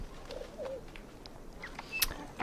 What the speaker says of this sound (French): Et le pigeon s'en va.